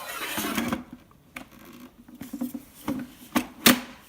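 A basket of fries pushed into a Dash compact air fryer, giving a few loud plastic clunks and scrapes spread over several seconds, with a sharper knock near the end.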